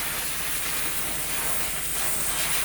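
A steamer lets out a steady, soft hiss while steaming yarn to set its twist. The hiss holds evenly throughout, with no voices.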